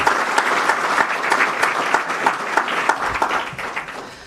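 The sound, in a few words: applause for Deanna Fallon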